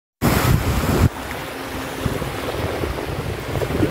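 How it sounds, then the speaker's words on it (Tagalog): Sea waves washing the shore at Canigao Island, a steady rushing wash with heavy wind buffeting the microphone at the start, close and fairly loud. "Ang sarap pakinggan yung sound mula sa lagaslas ng seawater."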